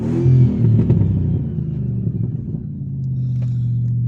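Jeep engine revs loudly up close, a deep throaty roar that swells at first, then settles into a lower steady rumble while the vehicle is under way.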